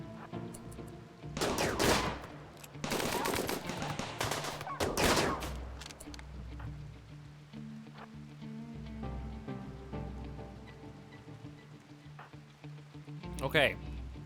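A RimWorld gunfight with a three-legged turret and enemy raiders shooting, heard as clusters of rapid rattling shots in bursts, loud then trailing off, with a sharp burst near the end and a person talking over much of it.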